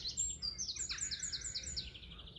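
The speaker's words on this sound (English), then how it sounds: "How beautiful is that bird song?" Morning birdsong outdoors, a quick series of bright, high chirping notes from a single bird, fairly faint over a low background rumble.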